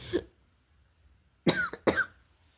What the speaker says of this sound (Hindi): खांसी कितनी आ रही है ना मुझे।